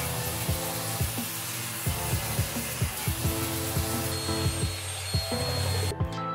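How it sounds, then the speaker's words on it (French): Sanding a welded metal part of a rear slide in a workshop: a steady loud abrasive whir with repeated rhythmic strokes and knocks, continuous throughout without speech. "Un petit coup de ponçage sur tout l'ensemble de la pièce"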